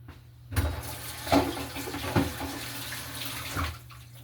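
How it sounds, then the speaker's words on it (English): A mandolin slicer is rinsed under a running kitchen tap in a steady close splash of water, broken by a few louder bursts and clunks as the slicer is moved beneath the stream, with no talking. "Now, gonna rinse off the mandolin."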